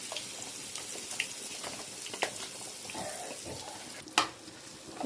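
Blended onions are tipped into hot tempering oil in a pan, giving a hissing sizzle and wet, watery crackle with a few clinks and scrapes of a utensil and a sharper knock near the end.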